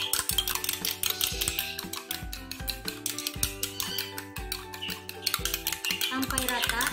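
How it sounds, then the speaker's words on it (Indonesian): Batter is stirred briskly with egg in a bowl, giving a steady run of rapid utensil clinks and scrapes against the sides, close and fairly loud, with a faint voice underneath. "aduk bersama dengan telur"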